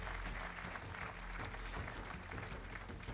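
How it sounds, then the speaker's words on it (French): A crowd at an awards ceremony for real estate developers breaks into loud, continuous applause, a thick, unbroken layer of clapping over a low room rumble. "On les applaudit ?"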